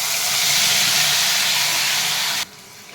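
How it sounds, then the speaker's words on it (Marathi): Masala paste for dabeli hits hot oil in a wok, a loud, close, steady hiss of frying that cuts off abruptly into quiet after a couple of seconds. "आता मस्त तेल तापले पेस्ट टाकून घेऊ"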